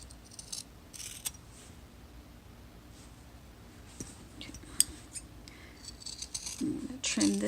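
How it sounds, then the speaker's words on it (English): Scissors trim a fabric seam on a crossbody wallet, quiet snips and small clicks spread over several seconds, growing slightly busier toward the end, with a soft rustle of material between cuts. "I'm going to trim this seam"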